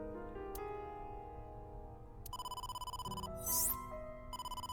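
An incoming-call ringtone from the game AI: The Somnium Files, a bright electronic melody of repeating tones that swells, briefly breaks into a shimmering chime, then resumes its pulsing ring, loud and alone.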